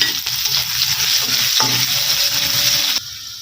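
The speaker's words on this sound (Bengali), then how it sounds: "এবারে দিয়ে দিব পেঁয়াজ কুচি।" Chopped onions fry hot in oil with black cumin seeds and whole chillies, a dense, steady sizzle with stirring scrapes, dropping off sharply near the end.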